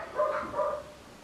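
A dog gives a short, muffled bark or two, somewhat distant and fairly quiet, in a workshop where wood is being hand sawn.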